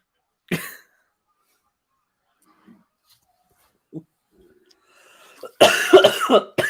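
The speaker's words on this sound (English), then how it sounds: "I've had this cough for 3 weeks." A single short cough near the start, a few faint sounds, then a burst of louder coughing or throat noises at the end.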